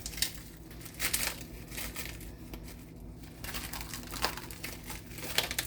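Plastic packaging on fresh mozzarella crinkles and crackles as it is pulled and worked open in a home kitchen, a steady close rustle with a few sharper crunches and no speech.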